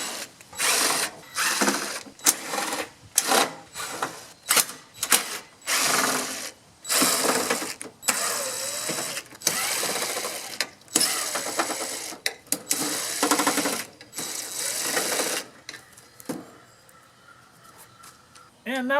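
A power screwdriver backs Phillips head screws out of a window air conditioner's case, with repeated short whirring bursts separated by brief pauses, close and loud, continuing for nearly twenty seconds.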